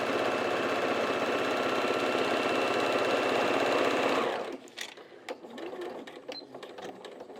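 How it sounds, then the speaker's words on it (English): A sewing machine stitching a fabric grocery bag runs in a steady, fast mechanical whir for about four seconds, then stops, followed by quieter clicks and handling sounds. "I'm just sewing down once here."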